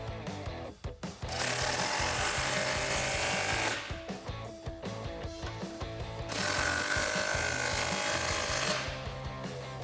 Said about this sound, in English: Same 15mm deep socket for both of these back muffler clamps.